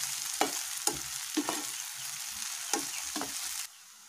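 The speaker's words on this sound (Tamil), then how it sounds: "அதனால இப்ப எண்ணெயில நல்லா ஃப்ரை பண்ணிட்டு எடுத்துக்கலாம்" Bitter gourd (pavakkai) pieces fry in oil with a constant bright sizzle, punctuated by regular scraping stirs about every half second, close up, until the sound suddenly drops away near the end.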